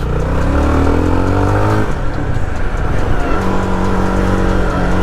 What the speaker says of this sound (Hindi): देखो मैंने जैसे ये अभी लगाया दूसरा गियर